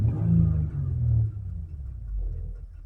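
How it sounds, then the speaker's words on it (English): A car engine idling in neutral is revved up, giving a brief low rumbling surge that settles and swells again, close and moderately loud, with no talk. "So if I rev it up"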